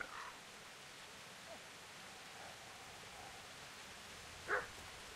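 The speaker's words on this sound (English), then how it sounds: "Sounds like the barking's coming from this direction." A single short, faint dog bark rings out from a distance in the medieval game Kingdom Come Deliverance, heard near the end over a quiet, hissy background.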